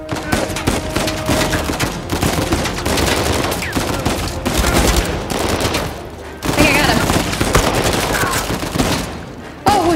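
Rapid bursts of gunfire in the video game Uncharted 4: A Thief's End, loud and repeated across the clip with brief pauses, under game dialogue and player commentary.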